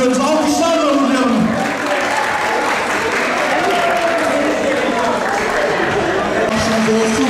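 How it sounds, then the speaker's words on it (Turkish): Sustained crowd applause at the finish of the Likya Granfondo cycling race during the Fethiye Sporfest, a steady loud wash of clapping with voices and crowd noise mixed in throughout. "alkışlarla uğurlayalım"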